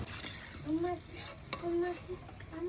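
Chillies for chilli fritters fry in a pan with a soft, steady sizzle and occasional light stirring clinks, heard at low volume.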